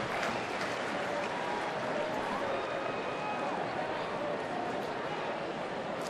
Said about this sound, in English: Another big crowd here at the ballpark as well.